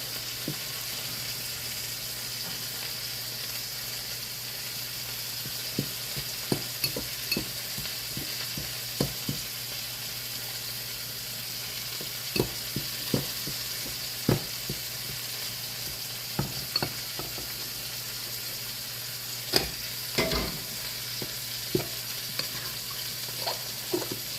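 A spoon stirs boiling hot water into instant mashed potatoes, making scattered scraping clicks and taps in irregular bursts over a steady low kitchen hum. No one speaks.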